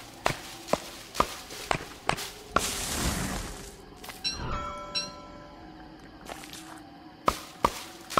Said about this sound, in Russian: А, паучки бегают.